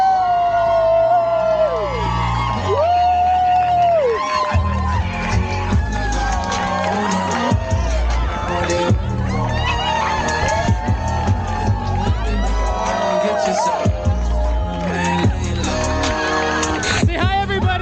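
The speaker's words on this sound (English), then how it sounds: "Make some noise, clap those hands for John and Bruce." Wedding reception guests cheer, whoop and clap for the newlyweds' entrance, a dense loud crowd roar with high wailing shouts, continuous and close.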